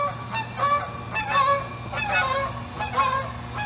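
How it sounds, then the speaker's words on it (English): Geese honk repeatedly overhead as they fly south on a cold day, their calls overlapping in loose bursts against a steady low outdoor hum. "geese are headed south"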